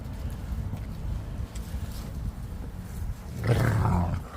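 Dogs feed on pieces of a deer carcass, with steady low growling and chewing throughout and a louder, rougher burst of snarling near the end, close by and with no talk.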